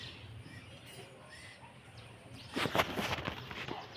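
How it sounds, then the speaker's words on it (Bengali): A flock of pigeons takes off with a sudden burst of wing flaps and rustling a few seconds in, after quieter outdoor ambience with faint bird sounds. "ওই দে পায়রা উঠছে"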